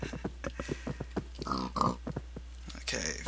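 Pigs grunt and oink in the TerraFirmaCraft video game while a player herds them, short snorts and a couple of louder squeals mixed with game clicks and footsteps, with someone talking quietly underneath.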